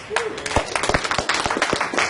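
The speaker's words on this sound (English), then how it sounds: "Give this man a round of applause." Brief applause and scattered claps from an outdoor street audience of about a hundred people at a talk in London's West End, lively and mixed with crowd voices.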